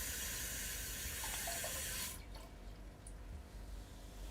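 Cold water pours steadily into a pan with drained rice while cooking, a continuous rushing flow that stops about halfway through, leaving quieter kitchen ambience.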